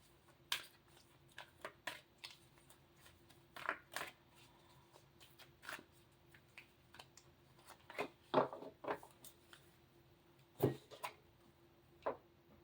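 Angel Answers Oracle cards being handled and shuffled, giving a quiet, close series of scattered soft snaps and flicks that come in irregular bursts against near silence.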